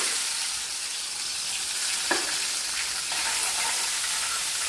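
Onion sizzling in hot oil with mustard seeds and cumin for an aloo tomato curry, a steady, close frying hiss throughout with a brief stir or clink near the middle.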